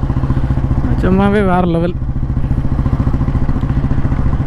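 A vintage 1957 Royal Enfield Bullet G2 motorcycle engine runs steadily up close, its low, even thumping continuous throughout, with someone speaking briefly over it near the start.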